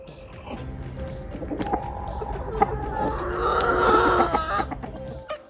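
Chickens cluck and chatter close by in a steady, busy flock, with a few sharper squawks rising near the end.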